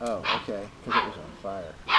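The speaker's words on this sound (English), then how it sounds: "You may hear some puppy barks in the background," Puppies bark in the background, with short yips and barks repeating in an uneven rhythm, fairly faint under a person's nearby speech.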